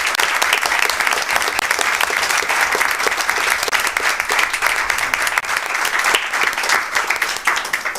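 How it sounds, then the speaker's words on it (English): A school committee meeting room fills with loud, dense, sustained applause for students, many hands clapping close by in a continuous roar without letup. "I'd like to give a round of applause for"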